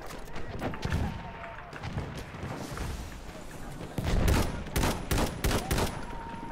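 Rapid gunfire exchange in the World War I shooter game Battlefield 1: repeated sharp shots and bursts of fire, with louder, denser volleys in the second half over a steady battlefield din and faint voice chatter.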